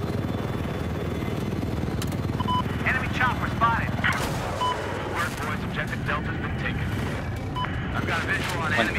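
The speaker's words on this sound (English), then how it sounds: "12 seconds, one attack chopper" Battlefield 4 attack helicopter combat: a constant loud rotor and engine drone under dense bursts of gunfire and explosions, with voices talking over the din.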